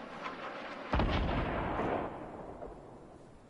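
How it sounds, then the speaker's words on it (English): A homing missile in the Fortnite video game hits with a sudden loud blast just before the one-second mark, and its rumble lingers for about a second before fading into quieter game noise. "someone's got a homing missile."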